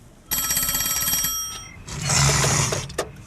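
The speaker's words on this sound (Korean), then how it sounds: "위치가 어색한 누가 봐도 사람 손인 손으로 태미에게 전화를 거는데" An old telephone rings in a 1994 film, a loud bright bell trill lasting over a second, followed by a burst of clattering noise and a sharp click.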